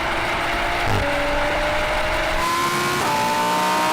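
Loud engines of a tuned 560hp Audi S4 and a V10 Lamborghini Huracan Evo roar and climb in pitch as they accelerate hard from a rolling start, with a kickdown gear change partway through and the revs rising again.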